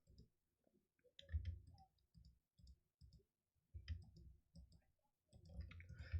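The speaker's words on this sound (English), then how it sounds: "moving my mouse and clicking to confirm" Computer mouse clicks during Blender 3D modelling work, a series of quiet, close clicks in irregular bursts with short pauses between them.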